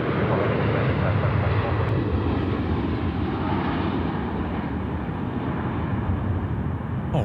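A Scoot airliner lands at night on runway 34 left at Sydney Airport in a crosswind, its engines a loud, steady low rumble and roar through the whole clip, close and continuous.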